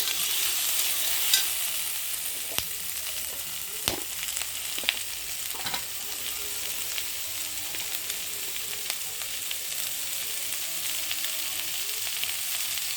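Potatoes, papaya, onion and green chilies fry in oil with a steady, even sizzle, broken by occasional soft clicks and scrapes of stirring, close and uninterrupted by talk.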